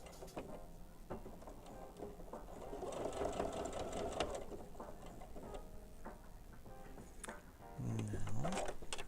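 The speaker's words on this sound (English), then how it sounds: "Back tack." A domestic sewing machine back tacks a seam while altering pants, a steady mechanical whir with short stops and restarts, close and clear, no talk.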